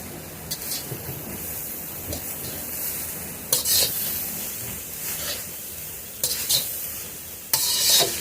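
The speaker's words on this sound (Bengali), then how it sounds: "গাজরটা যাতে ভালো করে ভাজা হয়ে যায় তার জন্য দিয়ে দিচ্ছি সামান্য পরিমাণে নুন।" Grated carrots frying in ghee with a pinch of salt for gajar ka halwa, a steady close sizzle broken by several sharp stirring scrapes of a spatula against the pan, no voices.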